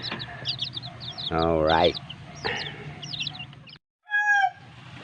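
Bare-necked gamefowl chickens cluck close by in a run of sharp, uneven calls with a drawn-out crowing note among them. Someone speaks briefly between the calls.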